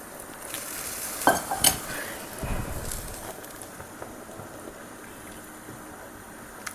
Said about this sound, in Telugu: ఇలా రైస్ వేసేసుకొని కలుపుకోవడమే.